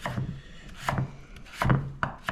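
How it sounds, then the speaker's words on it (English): A knife chops potatoes on a cutting board: a few spaced, woody knocks, close and moderately loud, over a faint low hum. "we're gonna cut these potatoes"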